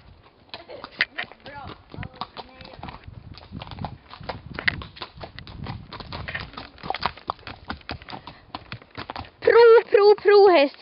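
A horse walks with steady hooves clip-clopping, close and fairly loud, while a person talks over it and calls out louder commands near the end.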